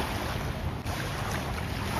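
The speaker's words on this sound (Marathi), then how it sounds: "खळाळत्या लाटांचा आवाज, तो येत असेल" Small waves lap at the shore of Madison beach on Lake Washington in Seattle, a steady, even wash of water blended with gusty wind noise over the two seconds.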